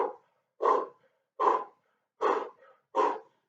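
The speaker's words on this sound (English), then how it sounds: "Now I'm breathing heavy." Heavy breathing after a HIIT cardio workout, five loud, close breaths spaced about every three-quarters of a second, with no talking.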